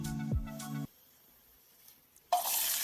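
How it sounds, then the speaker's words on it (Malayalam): A brief tonal sound, then near silence, and finally a loud burst of sizzling as thinly sliced onion drops into hot oil near the end. "എണ്ണ ചൂടാവുമ്പോൾ ഇതിലേക്ക് നമ്മൾ കനം കുറച്ച് അരിഞ്ഞെടുത്ത ഉള്ളി ഇതിലേക്ക് ചേർത്ത് കൊടുക്കുക"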